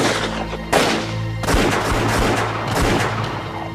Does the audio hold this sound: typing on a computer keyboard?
no